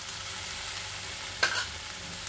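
A rice mixture with lemon juice is stirred in a pan over a soft, steady sizzle, with one brief clattering scrape of the spoon midway.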